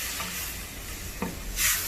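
Light and dark soy sauce being stirred into tofu frying in a pan, a continuous close sizzle with brief scraping strokes of the stirring utensil and a louder hiss near the end, no voices.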